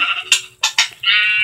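Sheep in the video game Minecraft bleat several times in quick succession, short wavering calls ending in a longer drawn-out bleat, close and clear with no talking.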